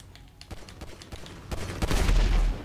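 Gunfire in Grand Theft Auto Online: a ragged series of sharp shots that thickens into a loud, dense burst of overlapping fire toward the end, with no voices.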